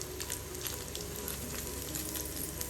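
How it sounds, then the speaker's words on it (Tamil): Paneer cubes frying in hot oil for paneer butter masala, a steady close crackling sizzle with scattered pops running throughout, no talking. "எல்லா பன்னீரும் இது மாதிரி பொரிச்சு எடுத்துக்கலாங்க."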